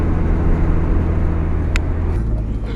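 A car engine drones steadily nearby on a residential road where kids are racing, a sustained low rumble with a brief sharp squeal partway through and a shift in tone near the end.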